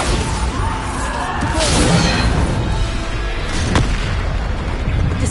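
Bombarda blasting spells go off in Hogwarts Legacy, a loud booming blast with whooshing debris around two seconds in, then a second sharper crack later, amid steady battle noise.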